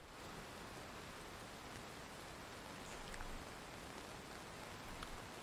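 Steady, even rain hiss with a soft patter in the video game SquadOps, moderately loud and unbroken, with no voices.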